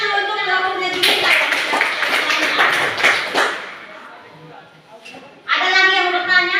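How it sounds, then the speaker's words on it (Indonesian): A classroom group claps for group 1 in a short burst of about three seconds, bracketed by a person talking before and after. "Tepuk tangan dulu untuk kelompoknya juga."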